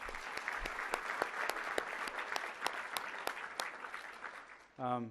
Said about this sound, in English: if you would just give these two a round of applause once again